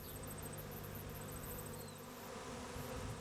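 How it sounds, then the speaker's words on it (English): A swarm of honeybees gives a steady dense buzzing drone throughout, loud and close, with a few individual insects passing nearby; nobody speaks. "heard a swarm of bees pass her room"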